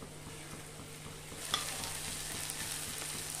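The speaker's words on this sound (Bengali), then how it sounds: "এভাবে একটু নেড়ে চেড়ে ভালোভাবে মশলার সঙ্গে মিশিয়ে দেবো আলুটাকে" Potatoes are stirred with spice paste in a hot pan for alur dum, a continuous soft sizzle with gentle scraping of the spoon and one brief clink, quiet and close, with no talking.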